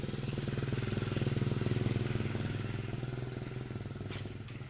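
A Kubota engine runs steadily at an even idle nearby with a fast, regular chugging pulse and some light clatter, fairly quiet and with no talk over it.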